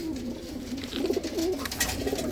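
Pigeons at a breeder's loft coo in soft, low repeated phrases, fairly close, with a steady background hum throughout and no talking.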